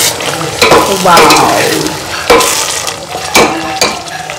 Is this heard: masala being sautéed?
yes